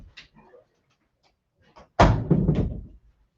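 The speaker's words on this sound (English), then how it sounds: "So we're just gonna shut the door." A house door is shut with a single loud, close thud and a short rattle after a few faint shuffling noises, with no talk.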